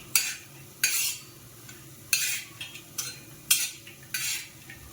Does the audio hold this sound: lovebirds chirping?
no